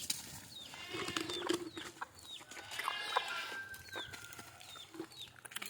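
Free-range country chickens cluck and chatter at feeding time while bran is set out for them, with several birds calling close by, overlapping, and a rooster-like call among them.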